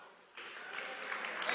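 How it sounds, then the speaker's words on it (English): Applause for the first winner of a sim racing main race final at a summit starts abruptly after a brief quiet moment, then builds into steady clapping that grows slightly louder. "The first ever winner of a RENNSPORT race, which I think deserves a round of applause."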